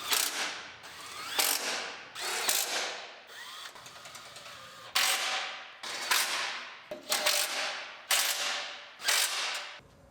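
A hand ratchet tightening bolts on a 2019 GMC Sierra Denali 2500HD with an L5P Duramax, making repeated quick clicking strokes in steady bursts of about a second each, close and fairly quiet, with no talking.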